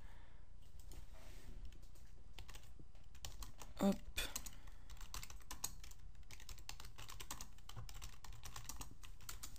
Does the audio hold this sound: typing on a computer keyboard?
yes